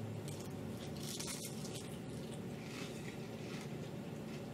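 Crisp crunching from bites into fried shrimp tempura batter, several close crackly bursts over steady background noise, with no talking.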